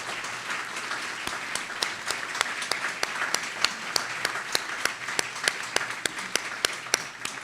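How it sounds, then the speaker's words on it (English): Steady applause from a sizable crowd, with sharp individual claps standing out in an even rhythm, continuing throughout without talking. "If you'd like to clap, feel free to clap."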